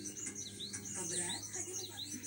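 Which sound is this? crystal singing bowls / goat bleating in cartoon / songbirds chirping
songbirds chirping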